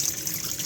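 Water rushing steadily through a hydraulic bench as its drain valve is closed, a brief continuous hiss of flow, moderately loud and with no voices.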